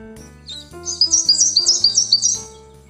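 An eastern yellow robin in eastern Australia sings a quick run of bright, repeated high chirps, loud and near, over a soft background music bed.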